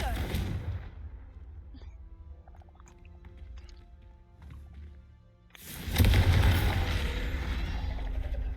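A booming fire-spell explosion from the Confringo curse in Hogwarts Legacy bursts loudly near the end, after a quieter stretch of soft game ambience and chimes, with a voice speaking over it.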